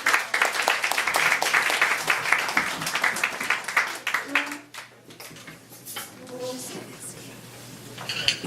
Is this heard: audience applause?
yes